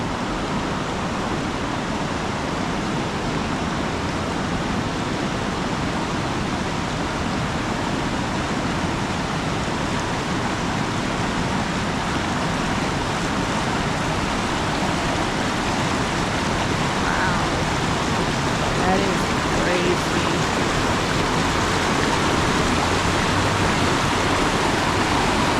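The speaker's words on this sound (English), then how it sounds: "Waterfall's still flowing pretty good." A waterfall at flooded Roaring River roars steadily and densely without pause throughout, a continuous broadband wash of rushing water heard close by.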